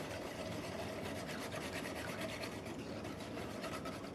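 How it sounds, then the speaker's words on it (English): Muffin batter ingredients, including milk, are whisked together in a bowl, giving a steady scraping, rubbing rhythm of rapid strokes that continues evenly for a few seconds with no talk. "we will just whisk these ingredients together"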